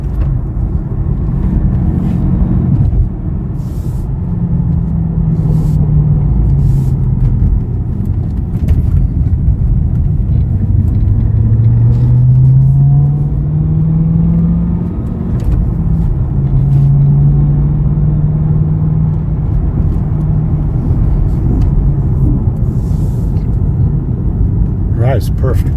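Supercharged 2011 Cadillac CTS-V coupe pulling steadily in third gear, a loud, continuous low engine drone with a tone that rises and falls in pitch throughout, the cabin rumble never letting up.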